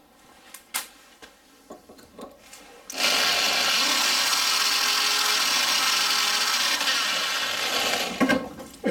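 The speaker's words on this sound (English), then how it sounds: "we'll hit it with a big drill" After a few light knocks, a powerful electric drill starts and runs at a steady loud whine for several seconds, drilling metal on a stuck camshaft sprocket of a VR6 engine, then stops with a clatter.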